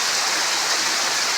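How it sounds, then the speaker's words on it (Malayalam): Heavy rain with large drops pours down in a loud, dense and constant hiss that stays steady from start to finish with no speech. "നല്ല ആ സൗണ്ട് കേട്ടാൽ നമുക്കറിയാം ആ മഴയുടെ ശക്തി. നല്ല വലിയ തുള്ളികളാണ് താഴോട്ട് വന്നുകൊണ്ടിരിക്കുന്നത്."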